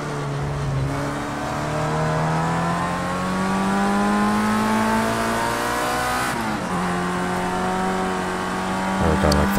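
A Formula Rookie race car in Project CARS 2 at the Algarve circuit, its engine revving hard and steadily close up, with pitch climbing through the gears, a brief shift dip, and tire squeal under a speaking voice.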